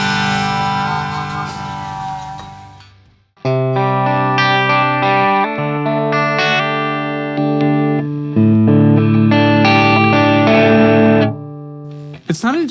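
Electric guitar chords ring out from a freshly assembled Harley Benton CST-24T PRS-style kit guitar with tremolo, roughly in tune: one sustained strum decays, then a sequence of loud, bright chord changes follows, ending with a short burst of strums.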